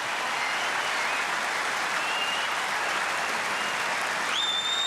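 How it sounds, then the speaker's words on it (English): Tennis crowd at the 1987 Australian Open final between Stefan Edberg and Pat Cash applauding and cheering after Cash wins a game, a dense, even wash of clapping from a large stadium audience with a few whistles on top. "At last, Pat Cash has given the fans something to cheer"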